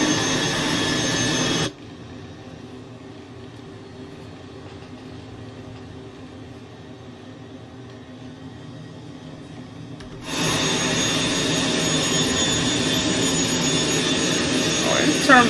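Cessna Citation Mustang C510 jet engine whine while taxiing in Microsoft Flight Simulator, a steady close hum that drops quieter for several seconds in the middle, then returns to full level.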